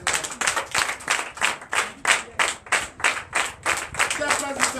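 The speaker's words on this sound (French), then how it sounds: "Veuillez vous lever et donner de vive acclamation." A church congregation at a Sunday service in Comè, Benin, claps in a steady unison rhythm, about two claps per second, loud and close with acclamation mixed in.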